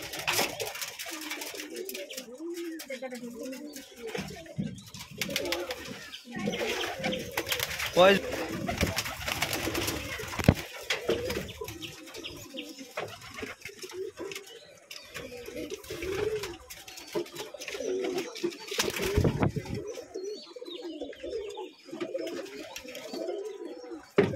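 Inside a pigeon farm holding wild, Parvin and Giribaz pigeons, a flock coos in low overlapping calls, with some handling noise and a nearby voice speaking at times.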